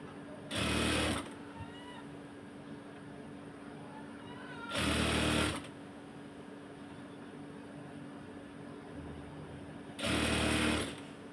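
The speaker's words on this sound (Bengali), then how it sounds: "তো এটাকে ঘুরিয়ে নিয়ে এই পাশ থেকে আবার সেলাই করব।" Short bursts of a sewing machine stitching a shirt, three separate runs of a few seconds each over a steady background hum.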